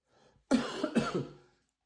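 A single sharp, close cough in two quick bursts from one person, breaking an otherwise quiet indoor moment.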